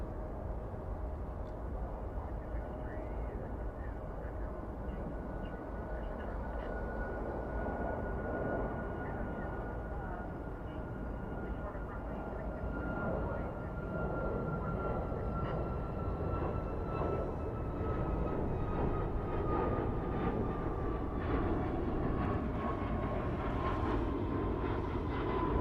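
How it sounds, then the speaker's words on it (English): A Boeing 737 Max 8 takes off at DFW airport, its engine roar heard from a distance as a broad, sustained rumble with a slowly falling whine that swells gradually over nearly half a minute, with no voices. "Let's see if we can get you a takeoff here, shall we? It's a Max 8."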